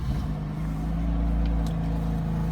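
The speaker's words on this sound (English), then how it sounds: "we'll jump on inside and I'll start the vehicle up" A BMW M3 Competition with the M Performance carbon package idles with a deep, steady engine rumble heard from inside the cabin, close and continuous, with no talking.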